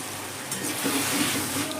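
Mutton curry sizzling and frying in a pan as a splash of mutton stock is poured in, a steady close hiss with soft bubbling and stirring, no voices.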